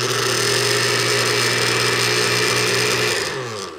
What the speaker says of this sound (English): And when you turn the blender on by pressing the button, you're going to see the light flashing.